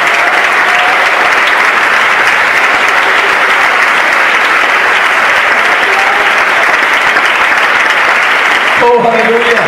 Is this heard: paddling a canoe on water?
no